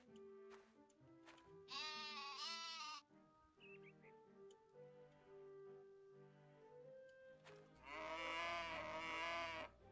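Cows mooing in a farming video game, several loud drawn-out moos with a sheep-like bleat, arriving in bursts with quieter animal noises between them and no talking.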